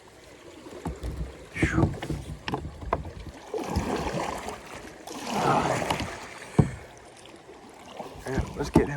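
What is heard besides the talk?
kayak going through river rapids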